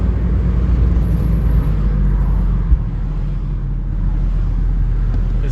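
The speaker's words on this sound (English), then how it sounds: "people are driving nuts out here" Traffic outdoors, a continuous low rumble of cars rolling past with a steady engine and tire drone, fairly loud and close, no voices over it.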